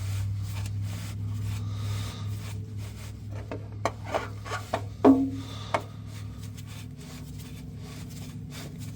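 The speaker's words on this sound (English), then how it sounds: "Let's get it threaded on there." A new oil filter threaded on by hand during a DIY oil change, giving soft rubbing and scraping with a few short knocks in the middle, close up over a constant low hum.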